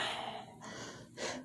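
A voice imitating a tired Salamence, a dragon Pokémon, panting after a battle: a short run of breathy gasps and snorts, close and fairly loud, with a sharper exhale near the end.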